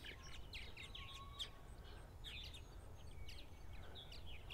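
Purple martins chirp at their nest in short, bright bursts with sparse gaps between them, heard faintly over a low background rumble.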